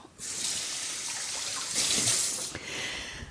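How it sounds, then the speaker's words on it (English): Sticky garlic rinsed off under a running kitchen tap, a steady close rush of water that swells briefly near the end and then cuts back slightly, with no talking. "The garlic is so sticky, which now I really have to rinse off."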